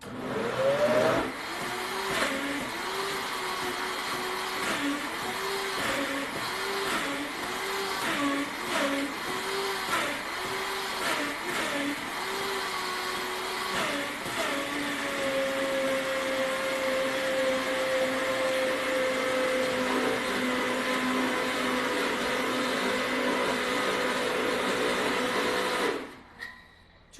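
A blender runs continuously for about 26 seconds on a very full jar of frozen berries and homemade oat milk for a smoothie, first with a pulsing, chopping rhythm as the fruit catches, then settling into a steady, loud whine before cutting off.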